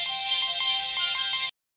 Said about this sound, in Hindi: सर, आपका फोन आपके घर से।